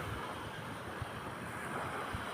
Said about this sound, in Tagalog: yan ang dagat namin pati baybay. Yan, tingnan nyo.